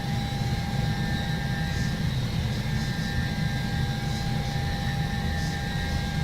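A Scandinavian Airlines DC-9 jet in Microsoft Flight Simulator X gives a steady, loud engine drone with constant whining tones over a low rumble, unchanging throughout.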